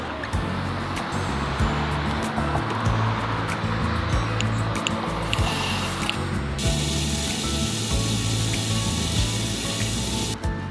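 Water gushing steadily at a camper van service station in the Swiss Alps, a loud continuous rushing spray that fills the whole stretch without pause.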